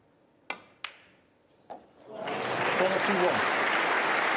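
Packed snooker crowd at Alexandra Palace during the Masters: a few sharp cue-ball knocks ring out first, then dense applause swells up and holds steady and loud to the end.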